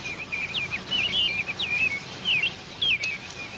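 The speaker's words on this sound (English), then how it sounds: "can you hear those birds singing that tune?" Garden birds sing a string of short, bright whistled phrases at moderate distance, repeating every second or so over a soft, steady outdoor background with no talking.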